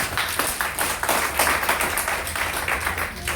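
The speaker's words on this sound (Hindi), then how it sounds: "जोरदार ताली चाहिए।" An audience at a motivational talk claps loudly and continuously, a dense burst of hand claps filling the whole moment.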